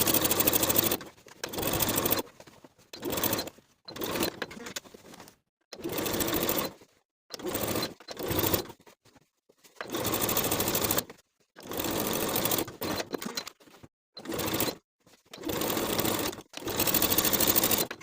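A sewing machine stitches the facing corners of a pintuck poet blouse in repeated short bursts of fast, close whirring, each run stopping abruptly before starting again, with silent gaps between.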